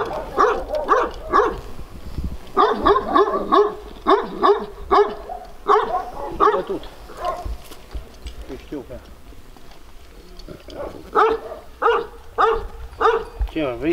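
Shepherd guard dogs protecting a flock of 550 sheep in Romania bark loudly and close in repeated bursts, with short pauses between volleys and people talking over them.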